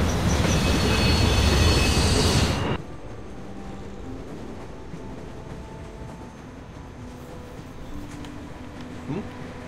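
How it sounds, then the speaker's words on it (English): Rumbling train ride from The Walking Dead video game, loud and dense for the first few seconds, then dropping to a steadier, quieter rolling drone with a faint squeal near the end. "Riding on the train."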